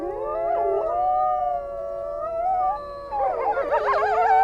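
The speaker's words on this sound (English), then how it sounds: "As if saying their goodbyes, the wolves start to howl." Wild wolves howl together in a documentary setting, several long, wavering, overlapping tones that rise and fall in pitch, sustained and fairly loud, with a fresh burst of quavering voices near the end.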